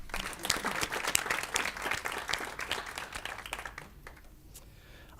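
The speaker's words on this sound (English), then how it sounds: "we should clap for her anyway" Audience at a Cromwell Board of Education meeting applauds steadily in a dense, close burst of clapping that thins out and fades to near quiet after about four seconds.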